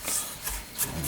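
A knife slices through mushrooms on a cutting board, making a few soft, close scraping strokes in quick succession.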